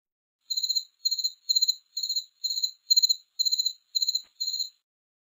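A cricket chirps in nine evenly spaced bursts, each a quick trill of pulses, high-pitched and steady against silence.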